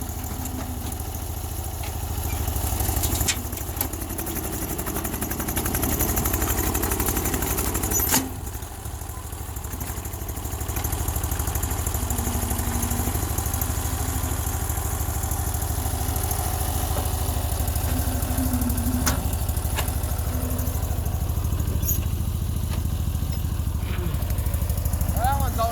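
A Sears loader engine idles with a steady, low chugging rumble nearby, holding an even rhythm with a brief dip partway through, while people talk over it.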